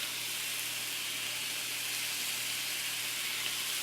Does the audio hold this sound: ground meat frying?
yes